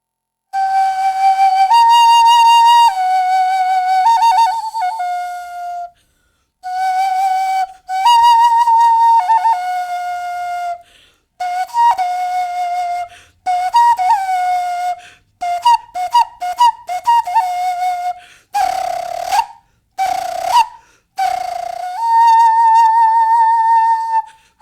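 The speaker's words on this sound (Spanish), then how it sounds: "una ocarina de barro con la figura De de Tlaloc" A clay ocarina shaped like the figure of Tlaloc plays a breathy, flute-like melody of held and quick notes with short pauses between phrases, close and alone.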